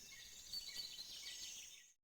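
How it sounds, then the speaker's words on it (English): Bird calls from the jungle ambience of the video game Metal Gear Solid 3, a soft, steady wash of high chirps and trills, faint and distant, with no voices. "those are the bird sounds from Metal Gear Solid 3"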